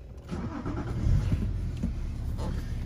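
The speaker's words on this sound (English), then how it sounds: "So push button start." A 2009 BMW 530 GT Gran Turismo starting by push button: a brief starter crank, then the engine catches and settles into a steady low idle, heard close from inside the car.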